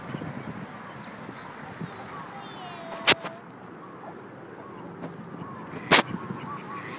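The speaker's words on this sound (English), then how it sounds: "ducks coming home." Ducks returning to a pool give scattered honking calls over steady outdoor background noise, with two sharp loud clicks cutting in along the way.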